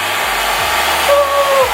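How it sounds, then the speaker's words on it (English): A blow dryer running steadily on a lace front wig during installation, a close, loud continuous airy whoosh with a low motor hum and slight shifts in pitch as it is moved. "Now I'm going to take the blow dryer and dry it while I pat."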